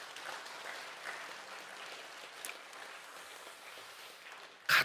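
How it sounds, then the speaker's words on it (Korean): A congregation at a church revival meeting claps in blessing, with faint, distant, scattered applause throughout and a sharp louder knock near the end. "네, 박수로 한번 축복."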